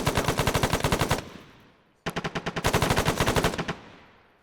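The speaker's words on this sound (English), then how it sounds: "start firing your rifles back." Machine gun fire in the military video game ArmA 3, two long rapid bursts of loud, evenly spaced shots, each trailing off into echoing decay, with no talking over them.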